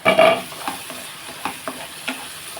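Vegetable curry with sesame and coconut stirred in a pan: a loud opening scrape followed by several lighter, irregular utensil strokes and clinks over a quiet, continuous sizzle.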